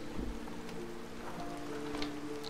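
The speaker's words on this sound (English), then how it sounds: "Look at the rain." Rain falling in the Ori and the Blind Forest game level Swallow's Nest, a steady soft hiss of drops with faint tonal game music running beneath it, no voices.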